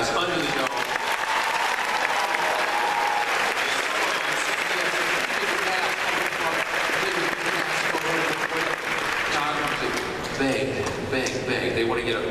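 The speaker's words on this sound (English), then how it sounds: "A round of applause for these guys" Large crowd at a Comic-Con panel for Under the Dome bursts into loud, sustained applause with cheering for about twelve seconds, while a voice talks over it.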